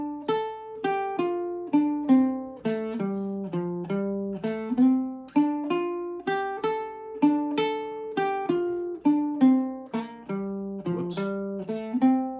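Baritone ukulele picking a minor scale from high notes down to low, single plucked notes in a steady slow rhythm, clear and close with no talking.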